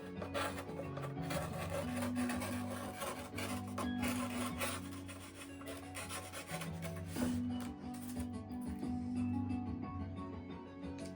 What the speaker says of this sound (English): I'll be sanding it to get it a little bit more rounded there